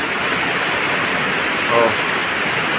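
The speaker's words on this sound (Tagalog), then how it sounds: "napakalaki ng tubig mga idol" Floodwater of an overflowing river rushing in a constant loud roar close by, with a man's brief exclamation over it.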